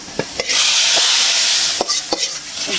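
Garlic browning in a hot pan gives a loud, continuous sizzle, broken by several sharp scraping clicks as it is stirred with a utensil.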